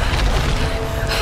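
A loud, close explosion in the Tomb Raider video game, a single sustained deep boom with a rumbling low end that fills the whole short moment and flares again at the end.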